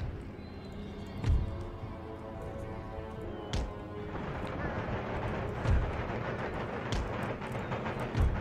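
Mortar fire in an Empire: Total War battle, low dull thumps landing every two seconds or so against a steady battlefield rumble, with occasional sharper cracks.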